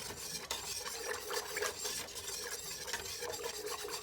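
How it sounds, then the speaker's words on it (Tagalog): A spoon stirs corn kernels into a thick maja blanca corn pudding mixture, making continuous close, soft scraping and rubbing sounds against the pot with no voices. "ihalo na natin itong ating mais corn"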